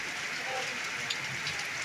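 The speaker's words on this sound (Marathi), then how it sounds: "बघा पाऊस कसा चालू आहे आमच्या गावात" Steady heavy monsoon rain hisses evenly throughout over farmland in Babhulgaon Budruk, Vaijapur, a dense broadband patter with no clear individual drops and no voices.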